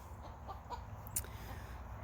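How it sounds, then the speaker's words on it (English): A laying backyard hen squawks and clucks in a few brief, faint calls over a quiet farmyard background. "And very noisy Sophia squawking at me."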